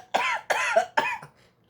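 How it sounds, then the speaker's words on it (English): An older man coughs three times in quick, harsh bursts, close and loud, then falls quiet. "The old man chuckled and went into a coughing spell."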